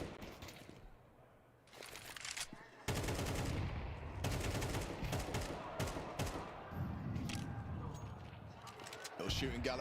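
CS:GO gunfire from a competitive match, rapid bursts of automatic shots and single cracks crowding together, with a commentator talking over the action.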